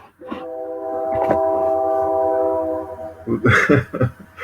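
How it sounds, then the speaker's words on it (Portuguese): A passing train sounds a long steady horn or whistle chord for about two seconds at fairly close range, followed by rumbling clatter and bursts of noise as it moves by. "O trem está caprichando hoje"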